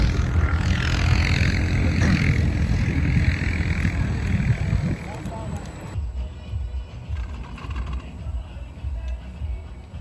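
Aircraft passing overhead at a ski resort: a broad, steady engine drone that stays loud for about six seconds and then eases off, with people talking over it.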